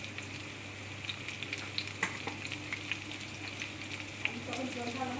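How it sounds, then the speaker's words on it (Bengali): Chicken fries in ghee for tandoori, giving a soft, steady sizzle close by, with scattered sharp crackles and pops. "আপনারাও কিন্তু ঘিতে ফ্রাই করবেন।"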